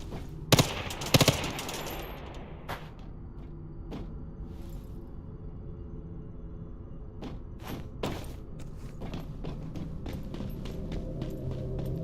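SMG fire in the survival shooter Once Human, opening with a loud burst and then scattered short shots and bursts over a low steady rumble, without talk.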